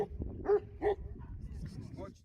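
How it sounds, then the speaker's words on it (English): A young female Aboriginal mountain dog, about a year old, gives several short yips and whimpering barks at close range while people talk around her. "This is our guide's female dog."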